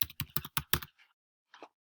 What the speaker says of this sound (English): So I'm going to name this Rafa's folder